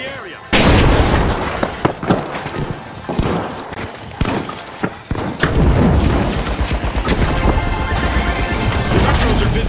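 A frag grenade detonates in The Finals among a chaotic fight, with sharp booms and crashing impacts standing out over continuous loud battle noise and voice lines.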